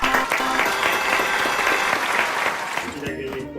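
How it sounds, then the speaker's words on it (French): A studio audience at a live improv show claps loudly and continuously. The applause is close and full and comes with scattered cheering, then starts to thin out near the end. "Allez, bravo Alex, on applaudit."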